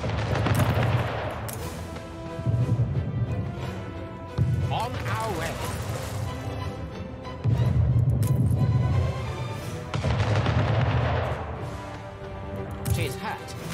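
Cannon fire in a video game: heavy booming blasts recur every few seconds over a dense, loud game soundscape with music, while players talk over it.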